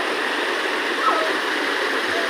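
A waterfall and stream pour into a natural pool at Trangkalan falls in Odiongan, Romblon, a dense, continuous rushing wash of water, loud and close with no break.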